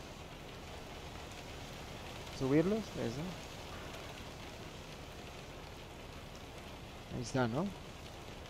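Steady rain in American Truck Simulator hisses evenly around a Mack Superliner cab throughout, while someone speaks briefly twice over it.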